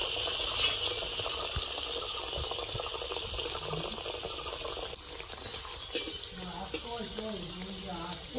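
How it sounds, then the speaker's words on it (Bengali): Rice flour snack dough frying in hot oil, a low continuous bubbling sizzle heard close, with faint clinks and a soft voice in the background partway through. "এখন আর একটা ভেজে নেব।"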